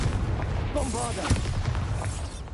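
A Bombarda blast spell from Hogwarts Legacy: booming explosive impacts with a heavy low rumble, plus a brief voice-like effect near the start.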